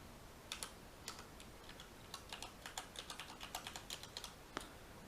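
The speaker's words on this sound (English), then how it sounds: "we must first type in the server" Quiet, irregular clicking of a computer keyboard during typing into an SQL Server connection form, with short bursts of keystrokes and no voices.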